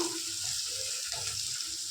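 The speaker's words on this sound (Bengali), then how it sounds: "এখন আমার পেঁয়াজটা ভাজা হচ্ছে।" Onions sizzle steadily in a pan, a constant hissing crackle with faint stirring underneath.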